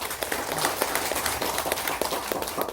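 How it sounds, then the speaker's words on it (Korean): Audience applause at a Korean consumer federation forum on reducing non-point pollution sources, a steady dense patter of many hands clapping throughout, moderately loud and filling the room. "우리 모두를 위해서 박수 한번 쳐보겠습니다."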